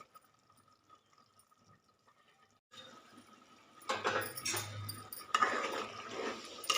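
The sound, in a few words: pouring a little water into chicken curry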